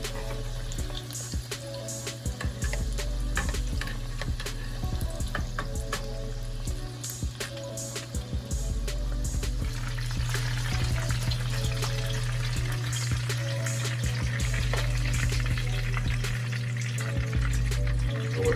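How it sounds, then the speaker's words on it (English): Buffalo ranch shrimp egg rolls frying in oil on high heat, a loud, steady crackle and sizzle that runs throughout with occasional sharper pops and spatters as they are flipped. "Since the oil is on high heat, guys, you wanna continuously flip your egg roll because you don't want it to burn."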